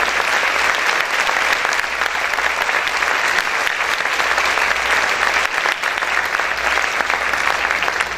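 Sustained, loud applause from a church congregation fills the room, a thick even wash of many hands clapping without pause, with only faint voices underneath.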